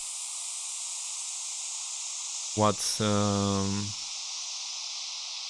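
Synthesized white noise with reverb forms a steady, even hiss throughout, briefly interrupted midway by a short spoken word from a person.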